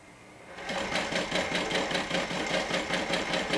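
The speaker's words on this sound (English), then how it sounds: "So I'm sewing through both layers." A sewing machine stitches through two fabric layers, main fabric and lining, for a curved welt pocket, starting after a brief pause and then running steadily with a fast, even, rhythmic whirring close by.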